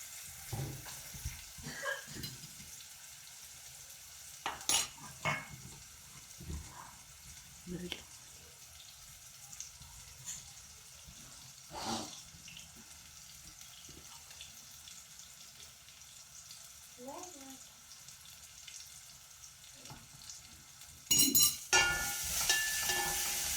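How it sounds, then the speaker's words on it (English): Garlic chutney fries quietly in a pan with scattered clinks and scrapes of a spoon stirring, a faint low sizzle underneath, and a louder splash of noise near the end. "now I'm going to add garlic chutney in there"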